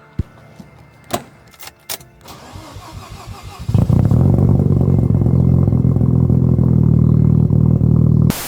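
A Mazda RX7 car engine cranks with a few sharp clicks, then fires up and settles into a loud, steady, rumbling idle close by, with no talking.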